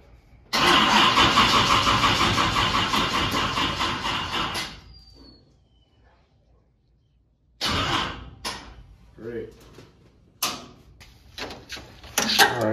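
A '67 496 stroker V8 with a dead battery cranks loudly for about four seconds and fails to catch, then silence, followed by a few clunks and mechanical knocks nearby.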